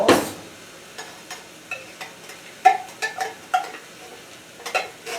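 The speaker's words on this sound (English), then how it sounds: "We're emptying the cream of celery soup." A metal spoon scrapes the last of condensed cream of celery soup out of a can, giving a string of short scraping and clinking strokes with a soft sticky texture, close and fairly quiet, without any talk.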